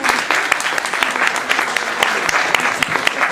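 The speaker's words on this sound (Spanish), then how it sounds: "Entonces un aplauso para animar a nuestra" Steady applause from an audience at a children's colloquium, welcoming a speaker to the stage; dense, continuous clapping with sharp individual claps throughout, fairly loud and without talk.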